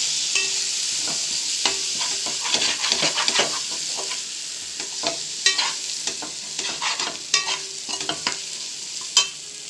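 A spoon scrapes and stirs egg biryani masala with fresh coriander in a pan, the steady sizzle of hot oil underneath and sharp utensil clinks scattered throughout, close and alone.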